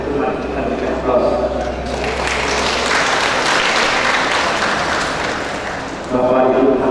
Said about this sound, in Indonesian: Terima kita berikan aplaus.